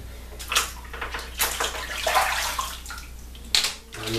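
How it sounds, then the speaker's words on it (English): Hands being rinsed under a running tap after shaving-soap lathering, an uneven splashing rush of water with bursts and pauses, close by and with no talk. "I'm gonna rinse my hands off here"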